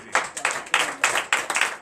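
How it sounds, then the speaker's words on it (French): Several people clap in quick, uneven bursts during a morning prayer service, close and moderately loud, with a few short pauses between rounds. "Donnez l'acclamation à Seigneur Jésus."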